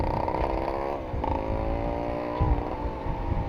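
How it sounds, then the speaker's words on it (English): A ported Suzuki Shogun (Shaolin) five-speed motorcycle is revved near the listener, its exhaust note climbing and dipping in short pulls over a steady raspy drone. "Crazy exhaust note."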